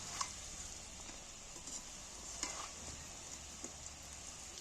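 Vegetables fry in hot oil for a vegetarian dish, giving a faint, steady sizzling hiss with a few soft pops and stirring ticks scattered through it.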